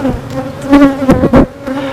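Honeybees buzz loudly and close at an open hive, a dense steady drone with individual bees swelling past.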